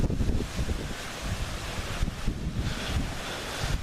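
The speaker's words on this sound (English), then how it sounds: "you're probably gonna hear some wind now." Wind buffeting a microphone outdoors near a bakery and cafe, a loud continuous low rumble that swells and fades in gusts.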